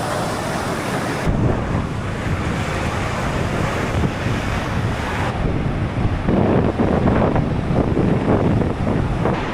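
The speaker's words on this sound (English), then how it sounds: "we've made it to the sea" Sea waves wash onto a beach on the north-east coast of Scotland under heavy wind buffeting the microphone, a continuous loud roar of surf and gusts with no voices.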